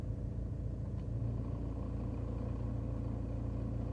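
Vauxhall Opel car idling with the engine running, a low steady rumble heard from close by with a faint clutch noise and no talk.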